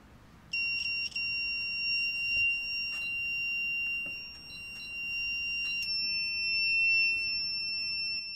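A homemade toilet leak alarm built around an ATtiny412 microcontroller sounds its buzzer: a steady, piercing electronic beep tone that holds for several seconds, close and clear, with a few faint clicks behind it.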